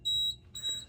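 Fire alarm panel in a garage sounding a supervisory alert: two steady high electronic tones, each roughly a quarter second, separated by a short gap, heard alone and fairly faint.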